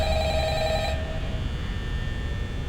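A telephone rings in the horror video game Five Nights at Freddy's, a tonal ring that stops abruptly about a second in, leaving a low steady hum.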